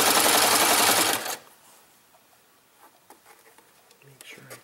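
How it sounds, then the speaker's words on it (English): A serger sewing machine finishes a fabric edge during an in-the-hoop machine embroidery project, running loud and steady with a dense buzz for just over a second before cutting off, leaving quiet handling noises. "I'm just going to do it on the serger for now"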